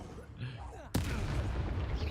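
A Depulso spell cast in Hogwarts Legacy hurls a transformed enemy, a sharp sudden blast that stands out against quieter game sounds and background noise, followed by a sustained rumbling wash.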